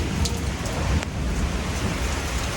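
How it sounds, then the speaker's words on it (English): Heavy rain pours steadily outdoors as a storm rolls in, a dense continuous hiss close to the microphone with a few brief spatters and no talking. "it is really raining, as you can see outside"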